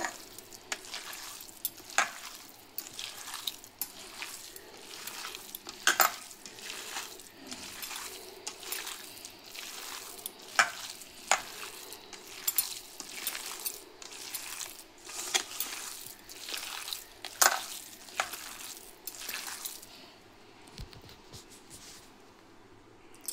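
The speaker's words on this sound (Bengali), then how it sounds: "আমি এবার এটাকে হাত দিয়ে চটকে নেব।" Soaked, softened flattened rice (poha) is squeezed and mashed by hand, giving repeated wet squelching squishes in an irregular rhythm, close and fairly quiet, with no talking.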